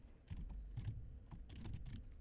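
Typing on a computer keyboard in Affinity Designer 2, with quiet, irregular bursts of key clicks close by, no voices, at low overall volume.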